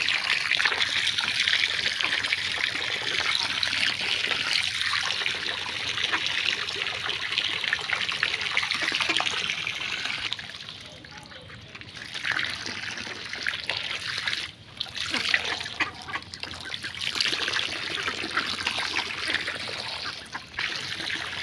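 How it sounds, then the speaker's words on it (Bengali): Water runs into the ducks' area as a steady trickling flow, close and continuous, dipping briefly in the middle before the stream picks up again. "পানি তো আসতেছে, দেখেন কিভাবে পানি আসতেছে।"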